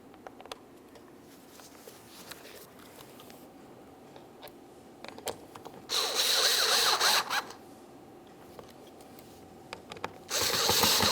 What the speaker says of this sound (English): Now, as you tighten these, keep in mind you are only screwing into plastic.